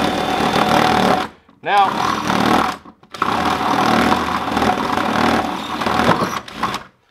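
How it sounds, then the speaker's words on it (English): A power drill with a hole bit bores through material while building a heated chicken waterer, whining loudly in long runs with short pauses, and a voice speaks briefly between bursts. "We got a hole drill."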